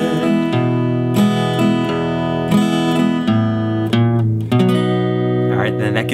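An acoustic guitar plays the verse of a song slowly, with sustained chords and a walk-up bass line, loud and close throughout.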